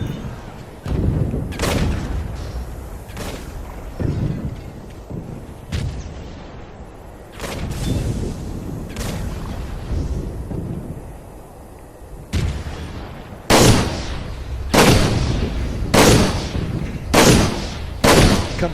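Artillery firing in the Toy Soldiers video game: repeated heavy booming blasts, spaced a second or two apart, with a faster cluster of loud shots toward the end over continuous battle noise.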